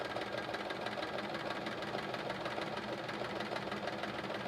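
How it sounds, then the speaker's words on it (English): A sewing machine doing free-motion quilting with a free motion foot, stitching lines in a steady fast mechanical whir that runs continuously at moderate volume. "I am attempting to sew straight with my free motion foot."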